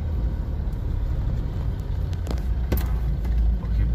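Road traffic near Pakuan Mall in Surabaya: a loud, steady roar of passing cars and engines with tyre rumble, close by and continuous, with no voices over it.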